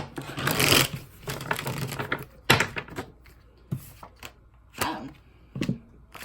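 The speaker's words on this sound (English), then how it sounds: "All right, one more shuffle." Bursts of papery riffling and flapping from a deck of tarot cards being shuffled come in separate handling bouts, with soft taps and clicks between them, close up and without speech.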